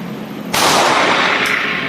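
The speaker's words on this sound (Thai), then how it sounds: "ยิงด้วยมือซ้ายก่อนนะครับหนึ่งนัด" A CZ P10C 9mm pistol fires a single shot from the left hand: one sharp, loud crack that cuts in abruptly and leaves a long, bright echo ringing through the rest of the moment.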